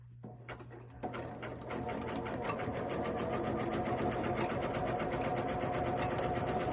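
A sewing machine starts after a few soft clicks and settles into fast, even stitching, a close mechanical whir with a steady rapid beat that keeps going without a break.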